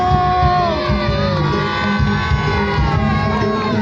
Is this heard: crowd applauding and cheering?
yes